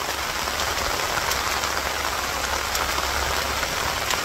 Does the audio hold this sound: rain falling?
yes